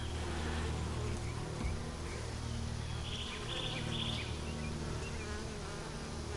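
Honey bees swarm around an open, queenless hive, giving a dense, steady buzzing that fills the whole scene at low level, with a few faint bird chirps in the background.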